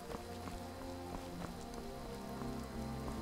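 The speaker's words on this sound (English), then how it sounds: "Now it's raining at Tabar-Nak." Steady rain falling in Skyrim, a soft continuous patter of drops on surfaces with low ambient game tones underneath, faint and even throughout.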